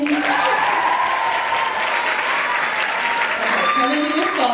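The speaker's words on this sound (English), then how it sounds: "Keep clapping." Audience applause fills a lecture hall during a maritime archaeology talk, steady clapping from a crowd sustained throughout, with a voice heard faintly over it.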